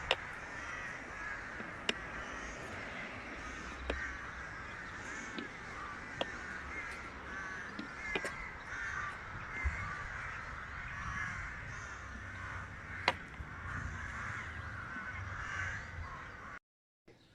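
Crows caw repeatedly over a village in León, Spain, harsh calls overlapping in a continuous chorus with occasional sharper nearby cries, no one speaking.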